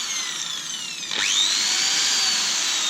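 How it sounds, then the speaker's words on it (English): A scrap e-waste power drill whirs up to speed after a second and keeps spinning steadily, slower than a normal drill, with a high, whining motor tone. "It doesn't seem to be spinning as fast as a normal drill"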